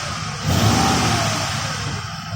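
A Jeep Grand Cherokee WJ engine, one with a zero-oil-pressure problem, revs up sharply once and then holds a steady, loud mid-pitched drone that slowly settles, close by with no talk.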